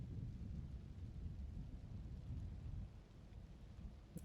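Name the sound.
ball lightning spell crackling in the video game Diablo 4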